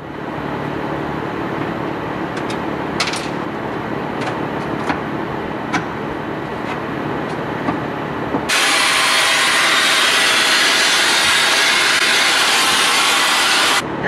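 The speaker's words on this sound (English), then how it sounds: "It's not supposed to blow dust everywhere. It's supposed to be a vacuum." A shop vacuum on a Japanese-market Honda Civic project car kicks on partway through, a loud steady broadband roar of blowing dust that fills the rest of the stretch after some light knocks and rustling.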